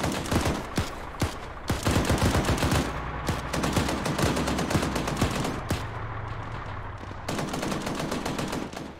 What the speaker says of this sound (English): Now that target's letting these guys do suppressive fire.